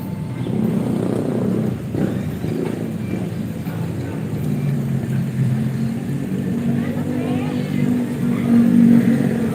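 A car engine hums steadily at close range, a broad, low rumble that holds for the whole stretch and rises slightly near the end, mixed with wind buffeting and faint background noise.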